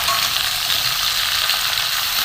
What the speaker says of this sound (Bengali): আগে প্রথমে ভেজে নেব, নুন দিয়ে দেবো।